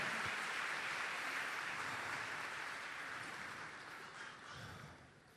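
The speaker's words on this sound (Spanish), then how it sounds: "Dale un aplauso fuerte al Señor y ponete en pie allí donde estás" A church congregation applauds the Lord, a broad, steady wash of clapping from many hands that fades gradually toward the end, with no voices over it.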